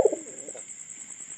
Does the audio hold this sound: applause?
no